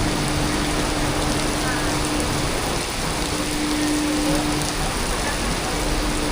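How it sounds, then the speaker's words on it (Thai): Hard rain falls across Siam Square in Bangkok, a constant close spatter and hiss of drops hitting surfaces that runs evenly throughout. "อันนี้สยามวันฝนตกนะฮะ โอ้ยตกแรงอยู่นะ"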